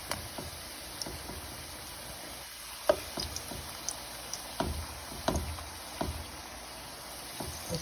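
Jamaican breadfruit fries quietly in a pan, a faint steady sizzle dotted with scattered pops and light clicks.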